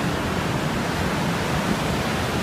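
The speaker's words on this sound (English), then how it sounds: "There are waves behind us." Waves and strong current at the Deltawerken storm-surge barrier in the Netherlands, a continuous broad rushing roar of churning water, steady and fairly loud without distinct breaks or voices.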